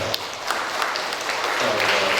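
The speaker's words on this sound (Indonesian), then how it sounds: "Tepuk tangan dong buat Azza." A crowd at a graduation ceremony claps steadily, the dense patter building slightly louder toward the end, with faint voices mixed in.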